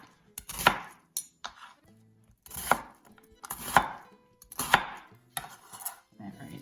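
Knife chopping a red pepper into one-inch chunks on a cutting board, four or five crisp separate strikes with short pauses between, close and clear, with no talking.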